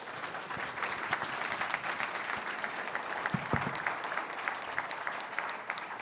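A modest audience at an evening innovation-community industry talk claps for the featured speaker, a steady, fairly faint round of applause with individual claps audible throughout.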